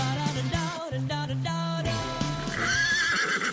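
Several horses neigh and whinny in turn, loud and close, with high drawn-out calls overlapping toward the end.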